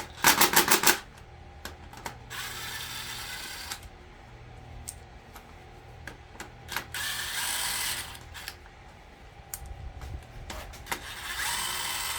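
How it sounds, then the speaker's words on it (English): A ratchet wrench clicks in short bursts during the teardown of a 6.0 Power Stroke diesel engine, with quiet pauses between the runs of rapid clicks and a few metallic knocks, close to the listener. "you should probably go ahead and put it back on the ratchet"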